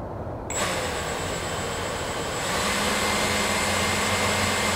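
Electric ducted fan of an RC Gulfstream G650 model spools up from silence into a loud, steady high-pitched whine and roaring rush, holding level and close for several seconds.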